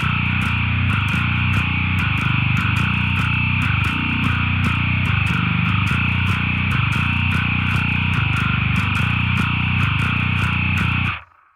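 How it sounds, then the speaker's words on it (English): Dingwall bass with EMG-designed pickups in passive mode through a Line 6 Helix, playing a gnarly, heavily distorted low riff with steady rhythmic chugs, loud and sustained, then cutting off abruptly at the end. "the bass tones that I'm getting out of this Helix are next level."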